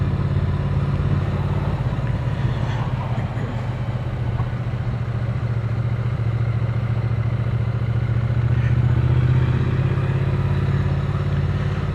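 A motorbike on a town street in Aberdeenshire, a low steady engine rumble and idle-like drone that swells slightly toward the end, heard close against general outdoor noise.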